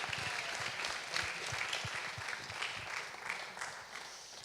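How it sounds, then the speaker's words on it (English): Sustained applause from a theatre audience at a Q&A session, many people clapping at once in a thick, even patter with no voices over it. "I applaud you again"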